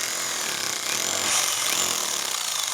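A power drill bores a hole in a wall while installing a Eufy video doorbell, giving a steady, harsh, close grinding whine that runs unbroken for about three seconds with no talking.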